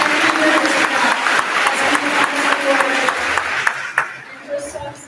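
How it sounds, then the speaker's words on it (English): A crowd claps in steady applause at a fifth grade awards and graduation ceremony, a dense patter of many hands that thins out near the end. "please give her a round of applause."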